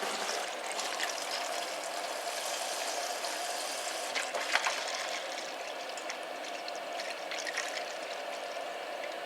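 Water seeps and trickles from the corner of an oiled canvas haversack, a steady soft hiss of dribbling liquid with a few faint splashy ticks, close and alone.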